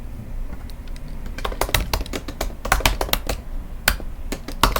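Keys clatter on a computer keyboard as a search term is typed into Amazon, starting sparse and then breaking into quick irregular bursts of close, crisp taps with short pauses.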